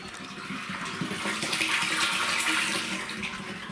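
Water pours steadily into a large barrel holding about a tonne, a continuous rushing splash at moderate level with no talk over it.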